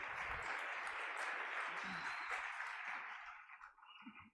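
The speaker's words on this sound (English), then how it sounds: "Give them a warm applause." Conference audience applauding panel speakers, a full, steady round of clapping from many people that fades out near the end, followed by a brief murmur.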